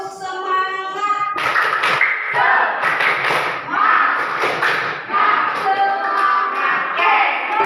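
A class performs the 'tepuk semangat' chant, with sharp group claps and stamping thuds in a steady rhythmic pattern, loud and close, alongside chanted voices and a spoken lead-in.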